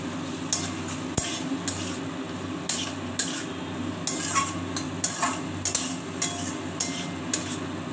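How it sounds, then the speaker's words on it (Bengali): Aloo paneer curry sautéing in a covered pan, with a steady low sizzle and intermittent scraping and clinking of a spoon against the pan. "একটু ঢাকা দিয়ে এখন কষাবো।"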